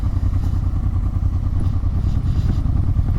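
A motorcycle engine drones steadily and close by while riding a mountain pass, with a low, rough, continuous rumble and no one talking.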